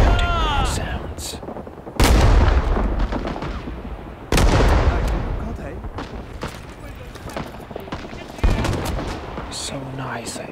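Gunfire in Rising Storm 2 Vietnam: a few heavy, booming shots ring out loud and close, each trailing into a long rattling echo, with softer clicks and handling noises between them.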